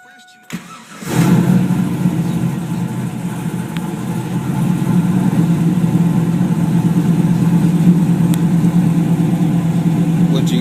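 A car engine turns over and catches after a short pause, then settles into a steady, loud, low idle that runs on continuously with a slight rise in level toward the end.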